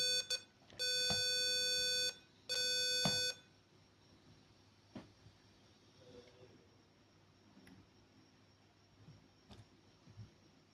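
Buzzer on a password-based access prototype circuit sounds two loud, sustained electronic beep bursts close by, each about a second long, followed by faint clicks and handling noise.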